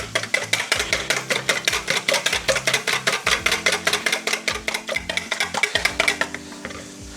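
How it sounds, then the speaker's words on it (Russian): Four eggs whisked in a bowl, a fast regular run of close utensil taps against the bowl's side that keeps going for several seconds and then stops. "возьму миску и сюда вобьем 4 яйца. И слегка собьем."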